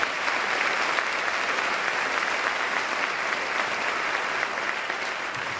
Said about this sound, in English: Can I hear a round of applause for that?